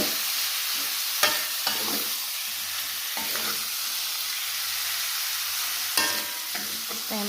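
Beef pieces sizzle steadily in a hot pan while being stirred, with scraping clatters of the spoon against the metal at intervals, close and continuous with no talking.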